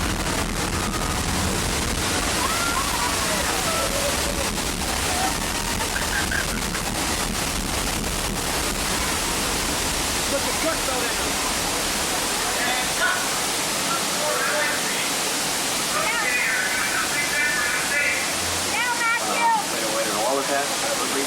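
Loud, constant roar of a waterfall of water pouring down in Catastrophe Canyon on a theme-park tram tour, filling the whole clip, with voices talking and calling over it.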